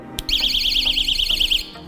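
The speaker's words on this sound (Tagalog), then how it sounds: "Meron itong LED strobe light at 130 decibel siren alarm." A 130-decibel personal safety alarm sounds once its pin is pulled, a loud, rapidly warbling electronic siren that starts abruptly after a brief click and cuts off near the end.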